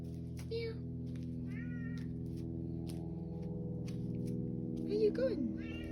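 A hungry stray cat meows a few times, short high cries spread across a steady low hum, with a voice imitating the meows near the end.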